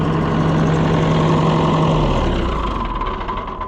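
An Allis Chalmers 175 diesel tractor engine runs close by with a loud, steady, rough rumble and a faint knock, easing down slightly toward the end.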